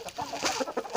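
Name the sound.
rooster clucking, desi poultry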